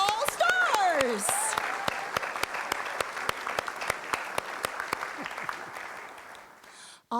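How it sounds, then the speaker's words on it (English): Audience applause at a Unitarian Universalist congregation gathering, steady clapping from a group that carries on for several seconds with sharp individual claps throughout, while a voice speaks briefly over the start and the clapping tapers off at the end. "Can we clap for each other today?"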